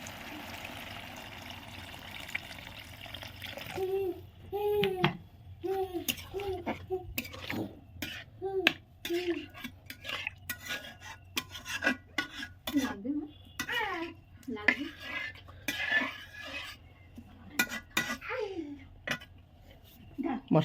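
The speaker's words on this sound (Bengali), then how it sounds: "এবার আমরা এতে একটু জল দিয়ে মাছটা দিয়ে দেবো।" Water is poured into a pan of Bengali rohu fish jhal, then the rohu pieces go in, with clinks of a spoon or ladle against the pot and stirring, under steady nearby talk.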